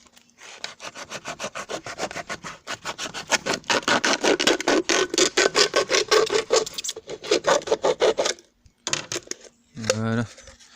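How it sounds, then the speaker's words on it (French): Saw-like cutting through the bottom of an empty plastic bottle, a fast rhythmic rasping of repeated close strokes that pauses briefly, then a short voiced sound at the end. "Voilà, découper le bas de la bouteille."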